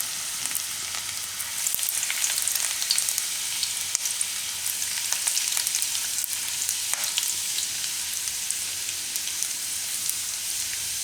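Garlic frying in hot oil for Gujarati methi marcha shaak makes a steady crackling sizzle that sounds almost like rain, even and close throughout, with no one talking.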